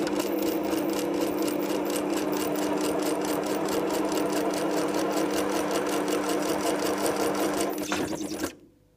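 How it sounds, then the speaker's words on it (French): A sewing machine stitches a zigzag along the edges of fabric, a fast, even mechanical rattle that holds steady for about eight seconds and then stops abruptly. "On va laisser la machine faire les contours avec le fameux zigzag."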